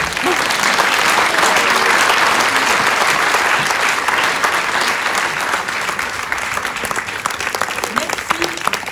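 Loud, sustained applause from a large audience, steady clapping that thins slightly toward the end.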